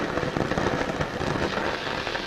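A brazing torch plays on overheated, smoking metal, giving a steady dense crackle and sizzle with fine popping textures throughout, close and fairly loud, no voices.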